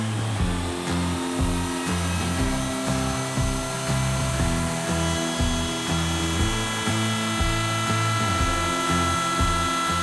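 A wood router fitted with a straight bit plunges into wood, giving a loud, steady high-pitched motor whine with a pulsing low drone throughout, close and continuous with no talking.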